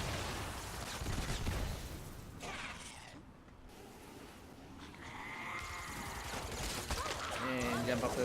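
A turret in a video game fires rapid bursts that rattle and clatter throughout, loud and steady, mixed with mechanical noise and a voice talking underneath.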